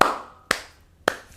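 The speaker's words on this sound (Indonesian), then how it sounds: "Tepuk tangan kita." Three separate sharp claps from a small group in an Indonesian gathering, spaced about half a second apart, each fading quickly into quiet.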